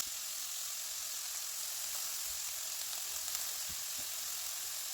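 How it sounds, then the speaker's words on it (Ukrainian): Soft, steady sizzling of vegetables frying in a little oil, quiet and continuous, with a faint occasional stir. "Обсмажую овочі на невеликій кількості олії до м'якості."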